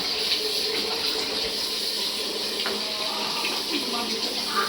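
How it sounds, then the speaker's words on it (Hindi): Tap water runs steadily over meat being washed in a kitchen sink, a constant close splashing gush that fills the whole stretch without a break. "कोई गोश्त धो रहा है"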